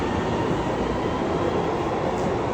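A train runs close by near a railway station in Frankfurt, a loud continuous rumble of wheels and rails without speech.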